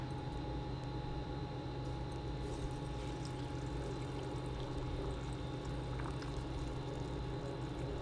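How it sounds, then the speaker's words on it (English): Hot pickling liquid being poured into a jar of jalapeños: a steady, continuous splashing gush that runs the full length, close by and fairly quiet, with no talking. "I'm just going to go ahead and get this poured in the jar"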